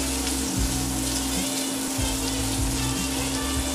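Garlic and parsley sauté in a hot pan for shrimp scampi, giving a loud, steady sizzle and crackle with brief stirring scrapes and a low hum underneath, no talking.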